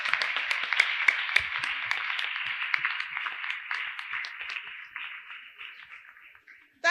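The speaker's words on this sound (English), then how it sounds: "Can we applaud ourselves?" A small group at an environment day celebration applauds with crisp, close hand claps that thin out over several seconds and then stop.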